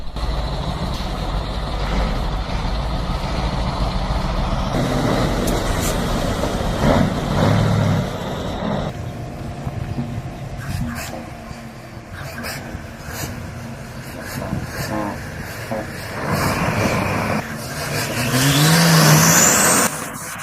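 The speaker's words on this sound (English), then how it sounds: "That engine sounds exactly like a tractor pulling something far too heavy." A heavy tow truck engine roars and strains loudly during a winter recovery, the revs rising and falling over a long pull, with air brake hisses and a high whine near the end.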